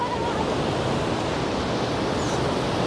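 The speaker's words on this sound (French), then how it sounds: "Elle est impressionnante cette cascade." A waterfall on a river in Chile, where the river splits in two, pours with a steady, loud, unbroken roar of rushing water that fills the whole moment without any talk.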